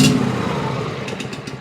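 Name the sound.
Cub Cadet XT2 Powermore fuel-injected engine running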